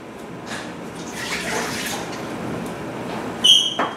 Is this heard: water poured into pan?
yes